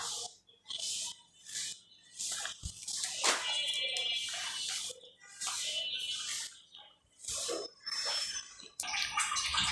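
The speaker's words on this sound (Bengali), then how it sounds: "ঘর মুছে এবার আমি এসেছি ওয়াশরুমে কয়েকটা কাপড় ভিজিয়ে রেখেছি সেগুলো ধোয়ার জন্য" Soaked clothes are washed by hand in a washroom, with repeated bursts of splashing, sloshing water and wet fabric rubbing, set apart by short pauses and the occasional clunk, all close by and moderately quiet.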